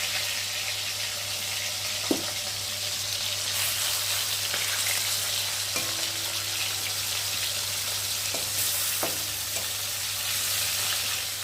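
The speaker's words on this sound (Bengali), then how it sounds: "মাছ ভাজা হয়ে গেছে, আর এখন আমি মাছ ভাজাগুলোকে তুলে নেব। যা চটপট চটপট করে ফুটছে" Tangra fish fry in hot oil with a steady, close sizzle and bubbling crackle, with a few sharp pops and clinks rising from the hiss. No one speaks.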